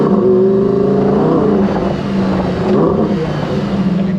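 Lamborghini Huracan STO engine pulling hard under acceleration, a loud, close, continuous roar with rising and shifting pitch from gear changes, filling the whole stretch without speech.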